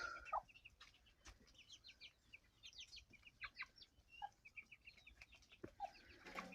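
Soft clucking and peeping from a broody hen and small chicks in a farmyard at evening feeding, scattered chirps over a quiet outdoor background.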